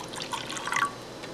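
About 80 millilitres of water is poured into a calorimeter in a physics lab, a soft, faint trickle and patter of liquid with no talking.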